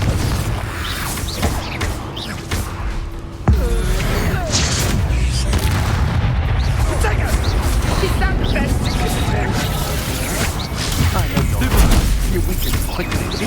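A Confringo fire spell cast from a wand in a video game on Xbox Series X, a sudden booming blast that erupts partway through a dense, busy mix of crashing combat effects and continuous rumble.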